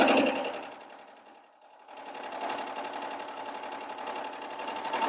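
A sewing machine stitches a hem on a chiffon bridesmaid's dress, its fast steady whir running close and continuous, pausing briefly near the start before resuming without any talk.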